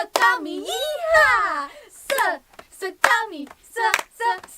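Children at a Sunday school session clap in sharp, rhythmic bursts while chanting a cowboy cheer in sing-song voices, the claps landing between lively, close-up chanted phrases.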